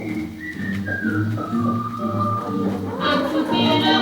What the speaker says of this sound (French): il sifflote une chanson